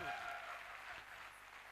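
An audience at a motivational direct-selling talk claps in a continuous wash of applause that fades slightly toward the end, heard from within the room.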